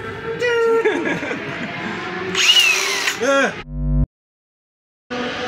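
A power tool cuts a part during modifications to a BMW F 900 R race motorcycle, a loud whining grind with rising and falling pitch, close up, under talk, then abrupt silence before the noise resumes.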